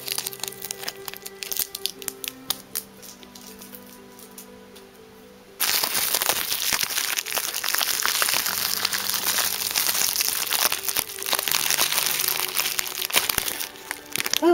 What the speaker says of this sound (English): Tape. More tape.